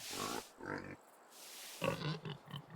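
Pigs in the video game Medieval Dynasty give a few short, rough grunts close by, quick snorts in a brief cluster, fairly faint overall.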